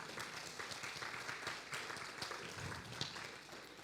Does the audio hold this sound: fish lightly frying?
no